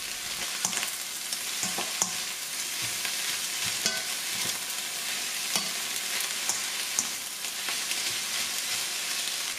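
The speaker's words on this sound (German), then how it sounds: "mit einer Spatel rühren und einschneiden und ganz kurz im Wok braten" Chinese cabbage sizzles in a hot wok while a spatula stirs it, a continuous crackling fry broken by frequent sharp scrapes and clacks of metal against the pan, close and without talk.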